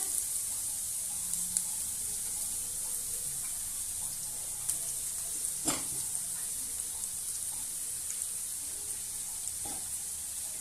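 Onion and garlic frying in oil for a fried fish curry, a steady bright sizzle running throughout with a few brief stirring clicks, close and moderately loud, no talking.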